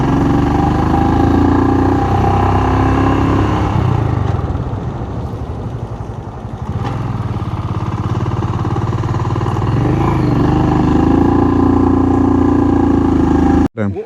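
Royal Enfield Scram 440 motorcycle accelerates in second gear on a pillion ride, its engine a loud continuous roar with wind rush, briefly easing then building again before a sudden cut at the end.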